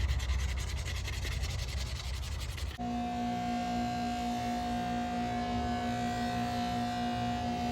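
Hand sanding of aluminum as final prep before polishing: a steady, close scratchy rubbing for the first few seconds, then a low steady hum with tonal lines takes over for the rest.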